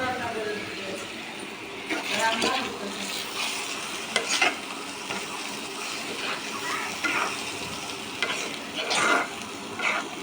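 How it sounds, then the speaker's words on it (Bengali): Washed, drained rice frying in onion-fried oil, a soft crackling sizzle with frequent stirring scrapes of a spatula against the pan, close and continuous. "এখন চালটা ভালোভাবে ভেজে নিব"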